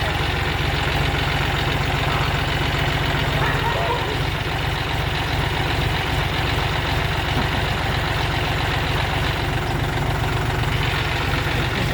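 A John Deere tractor engine runs steadily throughout, a loud, close, continuous diesel idle with a rough knocking throb and no speech over it.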